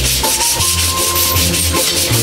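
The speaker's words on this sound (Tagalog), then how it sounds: "ginagrinder ko yung side para hindi siya matalas" A grinder smooths the cut edge of plywood being made into a round table, giving a loud, continuous rough rubbing abrasion with a pulsing, wavering texture and no voices.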